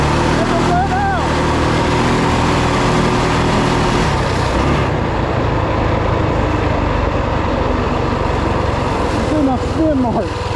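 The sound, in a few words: 2WD Rokon motorbike with 223cc Wildcat engine revving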